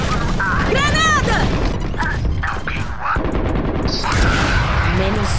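Grenade blast and rapid gunfire in a tactical shooter video game, with bursts of shots, booms and whizzing effects running continuously while players talk over the top.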